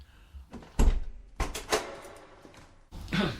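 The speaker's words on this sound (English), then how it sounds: "Open the door and come in." A door is opened in a dramatization of The Fall of the House of Usher, giving a few separate knocks and scraping thuds of wood over about three seconds, fairly close and clear with no talk over it.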